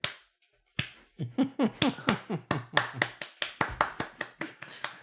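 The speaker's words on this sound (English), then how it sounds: "you just hear kind of like that slow 80s clap" A slow, steady round of hand claps, about a dozen sharp claps spaced evenly after a brief silence, close and fairly loud.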